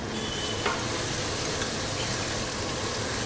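Whole spices, cinnamon and cardamom with ginger and garlic, fry in a pan with a constant, dense sizzle and a faint scrape of stirring.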